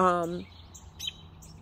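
Outdoor birds at sunset, with a short harmonic call at the start followed by a few faint high chirps over quiet background hiss.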